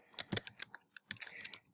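Quick bursts of keystrokes on a computer keyboard, close and fairly quiet, a rapid uneven clatter with a brief pause midway, no voices.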